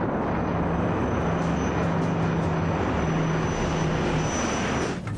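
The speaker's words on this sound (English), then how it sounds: "The plane is climbing, but not as quickly as it should be" Airplane engine under climb power, a loud, continuous broadband roar with a steady droning tone, heard up close without pause and easing slightly right at the end; no voices.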